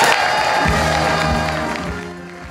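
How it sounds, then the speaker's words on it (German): Crowd applause and cheering at a Cologne carnival society's inauguration of a new president, honouring the departing president; dense, loud and sustained, slowly easing toward the end. "dein gigantischer Applaus folgt jetzt!"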